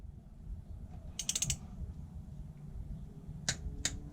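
A ratchet wrench clicks in quick bursts while bolts are tightened in a crisscross pattern, a rapid string of sharp clicks followed later by two short separate clicks over a low background hum.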